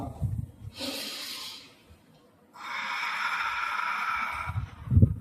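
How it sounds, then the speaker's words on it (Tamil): Deep breathing exercise done after a karate workout: two long, soft airy breaths, a shorter one followed by a longer steady one, close and fairly faint with a short pause between. "இது வந்து மூச்சு பயிற்சி"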